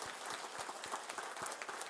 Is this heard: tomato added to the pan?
no